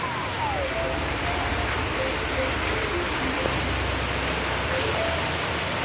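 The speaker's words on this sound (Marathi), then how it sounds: "जोरदार पाऊस सुरू आहे." Heavy rain pours down around a house, an unbroken, dense hiss of drops striking surfaces at steady loudness, with faint voices now and then beneath it.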